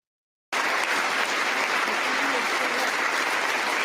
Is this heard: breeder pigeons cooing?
no